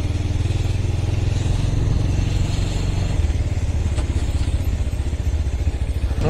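A Regulmoto Alien Monster 300 motorcycle engine pulls hard in third gear, giving a loud, close, steady drone with a slight rise in pitch as it accelerates.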